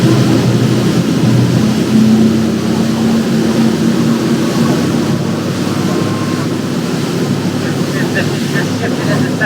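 Mercury Marine 600hp V12 outboards accelerating a Tiara 48 LS boat on open water, a steady low engine drone mixed with rushing wind and water noise, loud and continuous.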